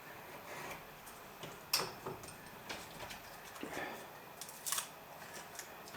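A few faint snips and clicks as a section is cut off a sanding strip while finishing an M3 Lee tank model, with quiet tapping between cuts in a still room.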